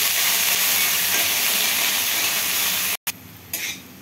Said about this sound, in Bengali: এখন আমি বেগুনটা যে কেটে রেখেছিলাম,